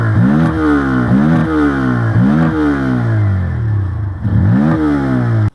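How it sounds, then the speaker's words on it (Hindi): A Bajaj Pulsar N160 motorcycle engine is revved repeatedly, several sharp throttle blips rising and falling over a loud idle before the engine cuts off abruptly at the end, with no voices. "अगर मैं आपको इंजन आवाज़ सुनाऊँ तो ये देखिए"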